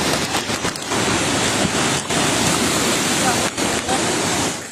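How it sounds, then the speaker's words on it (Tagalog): Heavy, steady roar of rushing muddy floodwater and pouring typhoon rain, loud and continuous with brief dips, filling the whole stretch. "Rumaragas ang maputik na tubig kasabay ng malakas na buhos ng ulan."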